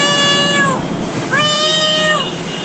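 A voice imitates a cat meowing, giving two long, close, clear meows separated by a short pause.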